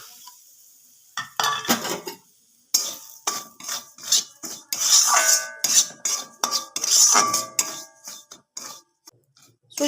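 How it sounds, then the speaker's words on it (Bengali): Semolina roasting in ghee in a pan, with a spoon clinking and scraping against metal in quick irregular bursts over a faint sizzle, close and fairly loud, no voices. "এবার ঘিয়ের মধ্যে আমি সুজিটা দিয়ে দেবো। সুজিটা আমি খুব ভালো করে ভেজে নেব।"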